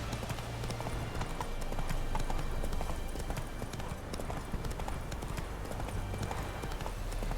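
Roach the horse galloping in the video game Witcher 3, a steady rhythmic clip-clop of hooves over a constant bed of game ambience and music.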